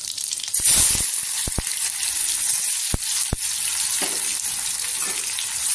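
Onion frying in oil with mustard seeds and cumin, a continuous close sizzle broken by several sharp utensil knocks against the pan, no voices present.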